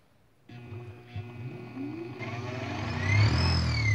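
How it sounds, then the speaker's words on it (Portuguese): A homemade crankshaft wheel simulator's high-speed, imperfectly balanced motor, run on 110 V through a speed controller, starts up with a whirring drone and rises steadily in pitch and loudness, ending in a strained high whine. "É um motor de altíssima rotação, não está perfeitamente balanceado, gera ruído."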